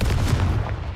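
Explosive Confringo spell blast in Hogwarts Legacy, a loud, heavy booming burst that fills the whole moment without pause.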